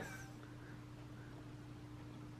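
A stray cat gives a faint, brief meow against a low steady hum, heard alone and close.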